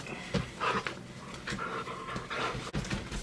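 A dog pants rapidly and close by, quick rhythmic breaths with an occasional faint whimper.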